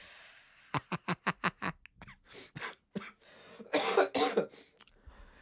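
A rapid string of six or seven sharp coughs, then a few rougher coughs and throat-clearing sounds, close and moderately loud.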